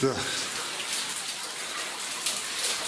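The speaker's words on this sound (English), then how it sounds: "I don't want to put my camera up there because it's pissing rain down there" Heavy rain pours down a mine shaft, making a steady, dense hiss with scattered splashes and drips throughout.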